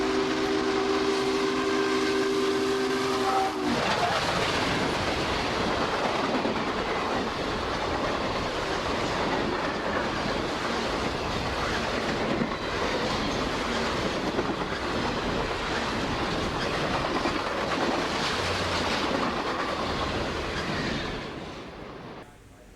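Union Pacific 844 steam locomotive running with passenger cars: a steady whistle blast opens, then a loud continuous roar of the train passing close by, fading slightly at the end.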